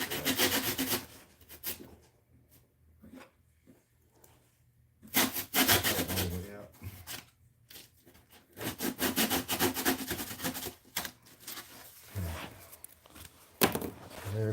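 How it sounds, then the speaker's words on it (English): A small rusty hand saw, like a little hacksaw, cuts polystyrene scenery for a model railway, rasping in uneven bursts of back-and-forth strokes with short pauses between them. "This is a handy little saw. It's like a little hacksaw"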